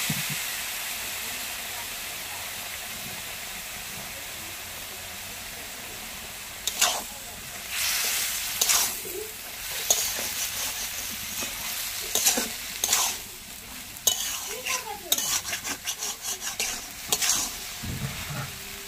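Steady hiss of mustard spice paste frying in a pan with a little water, with intermittent scraping and stirring clatter building in the second half.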